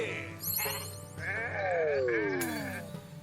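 Sheep in the game Renowned Explorers bleat in a few wavering, nasal cries, one drawn-out descending call prominent, close and fairly soft, set against light game effects with no talking.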